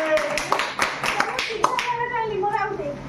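A class-3 group of children at DIET Ganjam, Khalikot, claps hands in a quick run of sharp claps over the first second or so, with children's voices and chatter continuing under and after the claps.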